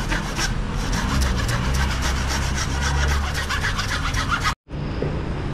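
A file rasps back and forth on a carbon bicycle fork steerer tube in quick, even strokes, close and scratchy, then stops abruptly with a brief silence before a fainter scrape resumes.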